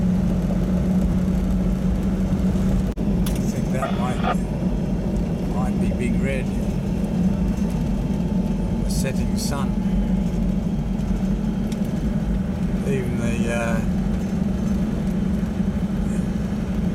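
A car drives the outback Big Red Road near Birdsville, its engine a constant low rumble heard from inside the cabin, with voices talking intermittently over it.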